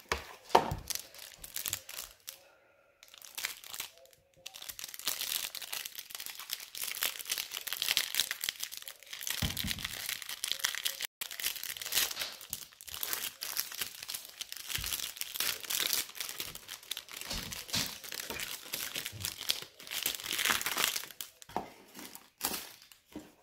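Foil wrapper of a Topps 2020 Series 1 baseball card hanger box being torn and crinkled open, a steady run of close, loud crackling and ripping that continues for many seconds with brief pauses, no voices.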